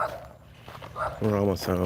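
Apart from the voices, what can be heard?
dog barking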